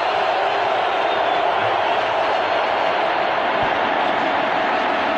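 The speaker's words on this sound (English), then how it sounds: "See, that was the crowd. The extra crowd CD or whatever, skipping." A steady, dense roar of a stadium football crowd played from a CD, a constant broadband wash with no clear breaks or cheers standing out.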